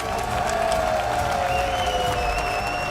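An esports audience at the EWC 2026 Call of Duty: Black Ops 7 finals applauds loudly and steadily, a dense wash of clapping with some cheering and a sustained tone running underneath.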